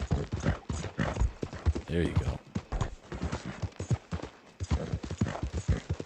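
Horse hooves clip-clop steadily in Red Dead Redemption 2 gameplay, a regular trotting rhythm running under near-continuous talk from a player.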